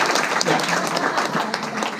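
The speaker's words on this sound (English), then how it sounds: "give me a big round of applause" A seminar audience bursts into a big round of applause, with dense, continuous clapping filling the room and a voice faintly audible underneath.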